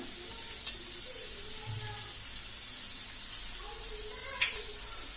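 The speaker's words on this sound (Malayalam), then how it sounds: "അപ്പൊ ഓയിൽ ചൂടായിട്ടുണ്ട്. നമുക്കിനി വെളുത്തുള്ളി ചെറുതായിട്ട് അരിഞ്ഞതാണ്, അത് ചേർത്ത് കൊടുക്കാം." Finely chopped garlic sizzles in hot oil in a home kitchen, a faint, soft crackle and hiss that holds steady under room noise.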